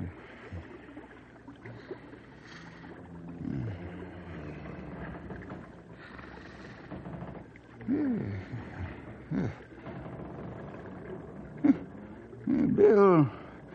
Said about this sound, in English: must be snoring hard.